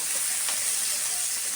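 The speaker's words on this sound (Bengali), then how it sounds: "এই তো আমার চিংড়ি মাছ ভাজা হয়ে যাচ্ছে" Prawns sizzle in hot oil in a pan, a steady close hiss of frying with fine crackle that holds evenly throughout with no voices.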